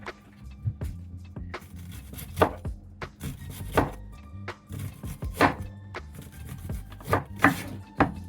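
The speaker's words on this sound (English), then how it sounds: "And then I'm going to start dicing this now." Knife dicing an onion on a cutting board for vegetable soup, a steady run of close, crisp chopping taps at an even brisk rhythm, with no talk.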